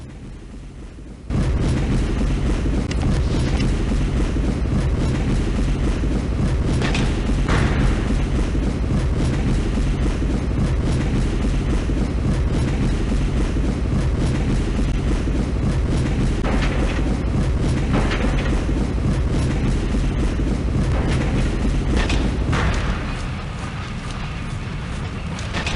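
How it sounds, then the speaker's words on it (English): Engine room machinery aboard the Titanic in the video game Titanic Adventure Out of Time, a loud continuous mechanical rumble and clatter with faint rhythmic knocks that runs steadily, then drops in level near the end. "go on, have a peek in the engine room"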